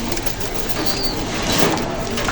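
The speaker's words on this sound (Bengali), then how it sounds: "এগুলো এমনি দেশি কবুতর" Domestic pigeons cooing inside a crowded pigeon shop in Khulna, with a steady dense murmur of many birds close by and faint rustling, no voices.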